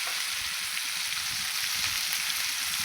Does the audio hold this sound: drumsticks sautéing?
yes